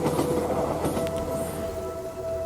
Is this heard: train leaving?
yes